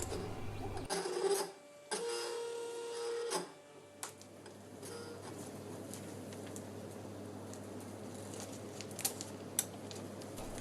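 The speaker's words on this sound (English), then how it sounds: "By a combination of moving the knife blade side to side, up or down, or by drawing the material in or out of the machine, any shape can be cut." A vinyl cutter's knife blade slices stencil material for scratch-built RC Spitfire markings, giving a steady printer-like mechanical whirring and chattering with short motor surges early on, close and fairly quiet.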